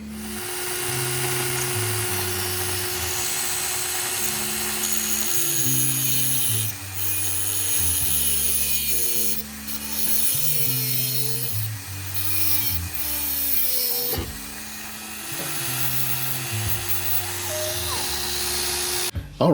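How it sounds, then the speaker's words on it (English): Small pieces of tubing for a model car wheel swap are cut by a rotary tool, its high whine dipping and rising in pitch as it bites, with brief pauses, close up. "Took the liberty to chop those two pieces of tubing out, all right size."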